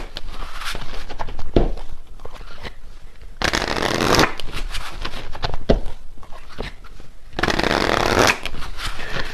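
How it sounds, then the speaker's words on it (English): Tarot cards being shuffled in repeated bursts of crisp riffling and flicking, close by, with short quieter pauses between. "And yeah, when I'm shuffling here,"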